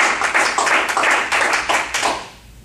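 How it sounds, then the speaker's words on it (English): A round of applause from the audience at a Toastmasters meeting, a fairly small group clapping steadily at close range for a couple of seconds before it thins and fades out. "a round of applause to Mr. Michael Tan"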